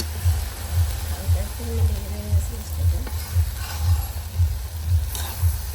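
Vegetables cook in a pan while being stirred, with regular scraping strokes about twice a second over a steady background sizzle.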